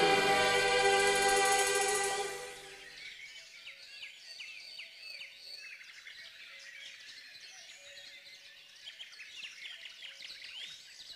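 Blue tits chirp and twitter in Côtes d'Armor, a busy run of quick, high, faint calls continuing on their own after a loud tonal passage cuts off at the start.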